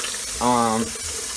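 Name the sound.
hot water running from kitchen sink tap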